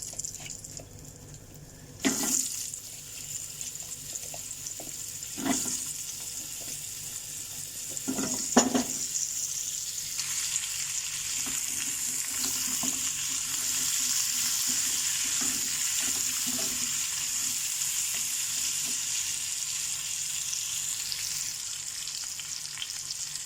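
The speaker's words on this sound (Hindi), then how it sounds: "अब इसमें हम पम्पकिन ऐड कर देंगे।" Pumpkin pieces frying in a pan for a spiced masala fry, a steady sizzle broken by a few sharp clatters of stirring, close and continuous throughout.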